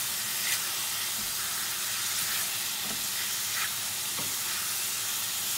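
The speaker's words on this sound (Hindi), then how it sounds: "ये मेरी गार्लिक और चिल्ली, तो इसको थोड़ा सा पकाते हैं 2-4 मिनट जब इसका कलर चेंज हो जाएगा।" Garlic and chilli fry in a pan with an even, continuous sizzle and faint occasional stirring taps, close and unbroken, with no one speaking.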